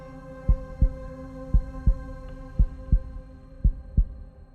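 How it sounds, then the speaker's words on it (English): In the horror game Devil's Hideout, a slow, heavy heartbeat thuds in paired lub-dub beats, four pairs in steady rhythm over a low droning hum, close and resonant with no talk. "Can you hear her heart beating?"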